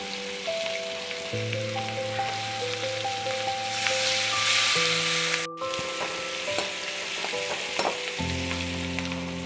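Onions and turmeric fry in a pan, sizzling steadily up close while a utensil stirs and scrapes, with background music tones running throughout.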